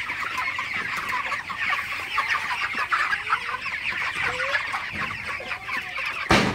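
Broiler chickens on a farm cluck and chirp in a dense, continuous flock chorus at close range.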